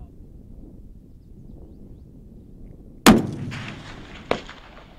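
A Barrett M82/M107 sniper rifle fires one powerful shot on an open live fire range. A booming crack decays over roughly a second, followed by a shorter, sharper report, with faint wind in the background.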